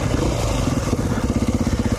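A 2019 Beta 500 RR-S dual-sport motorcycle idles close by just after a bump start, its single-cylinder engine chugging in a rapid, even, throbbing pulse.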